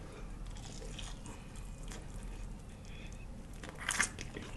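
A single crisp crunch of a bite into Korean fried chicken near the end, over a low steady background hum, with otherwise quiet room ambience.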